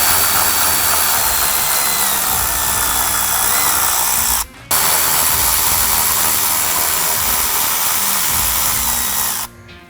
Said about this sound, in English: Now we can remove the 2 10mm bolts located here at the top of your headlight assembly